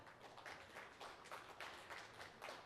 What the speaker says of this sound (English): so can we have a louder clap?